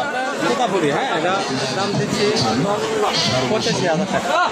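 Goats bleating repeatedly at a busy rural livestock market in Natore, with many overlapping calls near and far amid a constant crowd chatter and people talking.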